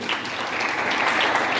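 A crowd at an international event claps for a motivational speech, a dense, continuous patter of applause with no pauses.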